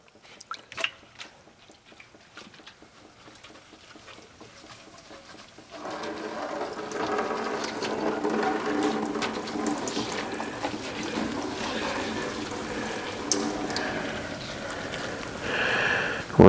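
A freeze dryer part being rinsed in a tub of rinse water: quiet drips and small clinks at first, then a steady wash of sloshing, running water close by.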